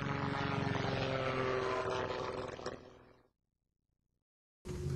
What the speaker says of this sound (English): proving that an engine-driven, heavier-than-air machine could fly